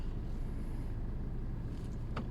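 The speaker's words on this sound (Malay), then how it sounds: "You only hear the diesel rumbling a bit." Low, steady diesel rumble from a Toyota Hilux Rogue pickup heard inside a well-insulated cabin, a constant low hum with no speech.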